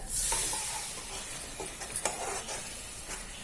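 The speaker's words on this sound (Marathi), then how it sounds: "डाळ जराशी थोडीशी तेलामध्ये परतल्याच्या नंतर आपण जी ही पेस्ट केली आहे वाटणाची ती टाकून घेऊया" Ground masala paste hits hot oil with softened dal for a thin methi bhaji, giving a loud, close, continuous sizzle with a few scraping stirs, no voices.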